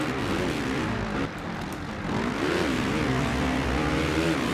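Motocross bike engines in the MXGP video game drone and rev in a continuous buzzing whine, pitch rising and falling as the bikes accelerate, loud and unbroken.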